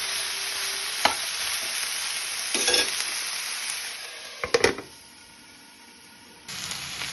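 Vegetables are stirred in a pan as part of a healthy chicken dish, over a continuous sizzle. A few scraping strokes stand out, the hiss drops away briefly near the end and then returns.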